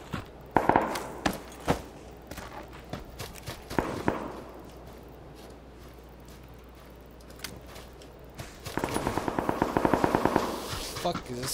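Bursts of automatic gunfire in a PlayerUnknown's Battlegrounds match: a few loud shots early, a quieter stretch, then a rapid, sustained volley near the end, with some voice chatter in the mix.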